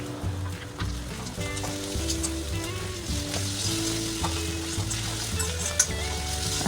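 Onion and ginger garlic paste sizzling while frying in a pan, a continuous crackling sizzle under a steady musical background with no talk.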